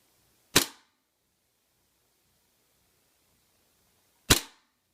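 Two sharp, loud shots from a Tokyo Marui Hi-Capa airsoft pistol fitted with a DVC STI slide, fired indoors several seconds apart, each a crisp crack with a brief tail and quiet between.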